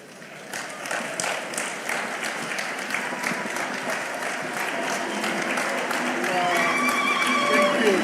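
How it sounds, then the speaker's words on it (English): A crowd at a 60th anniversary thanksgiving service breaks into sustained applause that builds gradually and stays loud and dense to the end, with voices faintly underneath. "Let's give a warm clap for that."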